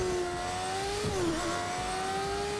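Motorbike engine in the Fortnite video game revving up, a loud, close, droning mid-pitched tone that dips briefly and climbs again for a few seconds.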